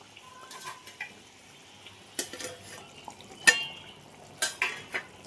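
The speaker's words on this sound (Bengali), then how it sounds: "এবার আমি দিয়ে দেব এই ভাজা মাছগুলো" Fried fish pieces go into a simmering curry pan and get stirred, with a few scattered utensil clinks and scraping sounds over a quiet kitchen background, no talking.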